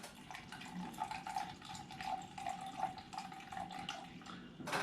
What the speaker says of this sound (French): je prends de la cachaça et je viens mettre 5 centilitres de cachaça